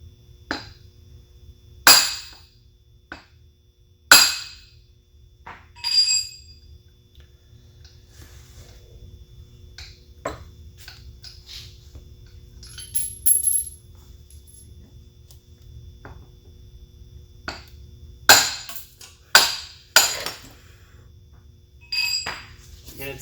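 A hammer striking a CV axle end to drive it back through the wheel hub, heard as sharp metallic clinks spaced irregularly across the stretch, some in quick pairs, close up over a quiet background.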